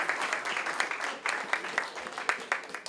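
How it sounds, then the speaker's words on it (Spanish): Applause for short filmmakers at the NoHu International Short Film Festival, a moderate crowd clapping steadily for about three seconds with a few sharper individual claps standing out. "queremos darle un aplauso bien fuerte a esos cineastas que están participando"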